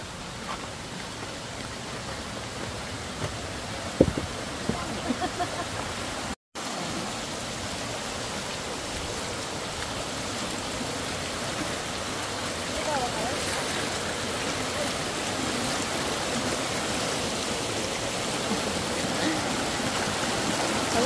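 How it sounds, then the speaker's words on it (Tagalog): A river stream near Hulugan Falls in Laguna flows steadily as a broad, constant rush of water, with a brief dropout partway through and faint background voices. "Ilog."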